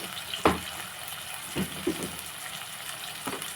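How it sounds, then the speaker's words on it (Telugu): Fenugreek seeds drop into a sizzling curry of eggs, giving a steady frying hiss with a few short crackling pops close by. "కొన్ని స్పూన్లు మెంతులు వేస్తున్నాను"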